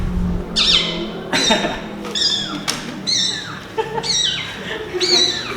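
A person imitates a kitten, producing a series of high, thin mewing cries in quick succession, each rising then falling, close and fairly loud.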